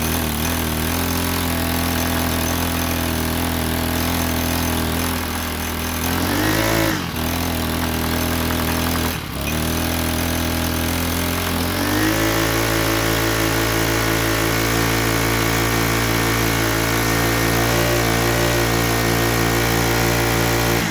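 A four-stroke string trimmer engine sputters to life with choke on at full throttle, revs loudly with a couple of dips, then settles into a steady, close, buzzing idle.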